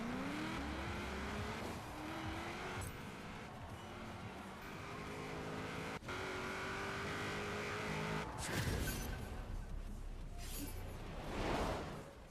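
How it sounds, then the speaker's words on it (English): A 1932 Ford drag car with a flathead V8 and big cam, racing in Forza Horizon 4, roars loudly and steadily as it accelerates, its engine pitch climbing through several gear changes with whooshing bursts near the end. "It really describes how a Ford flathead V8 sounds with a big cam"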